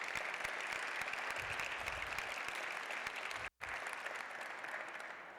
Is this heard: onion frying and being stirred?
no